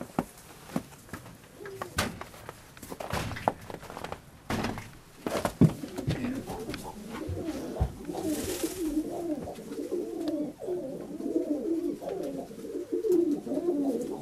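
Male show pigeons, helmets, nuns and tumblers, coo in a loft, their throaty rolling calls building into a steady chorus after some scattered knocks and flutters at the start.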